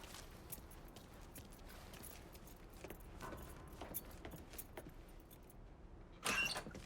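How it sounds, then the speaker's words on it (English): Truck keys jangle as they are grabbed in Mafia Definitive Edition, with a soft ongoing rattle and scuffle over a constant low background bed, then a brighter, louder metallic burst near the end, with no speech. "Keys in the other room. Grab them so we can get the hell out of here."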